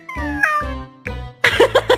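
A pet cat meows several times in short separate calls, close and fairly loud, the last burst rising into a strained, wavering yowl.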